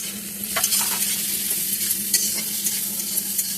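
Small darkina fish, a chuno-type fish seasoned with salt, turmeric and chili powder, crackle and sizzle steadily in a frying pan, a dense close hiss with scattered spatters throughout.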